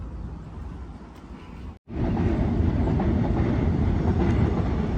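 Two trains pass each other on a rail line near a bridge in Seoul, South Korea, giving a loud, continuous rumble with faint clickety-clack, briefly cut by a short dropout before resuming steadily.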